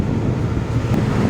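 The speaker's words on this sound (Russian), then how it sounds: "здесь очень сильный ветер и такой уже достаточно холодный" A strong, cold wind gusts at the deck of the Tallink ferry Isabelle, a low rumbling buffet on the microphone with a faint background drone.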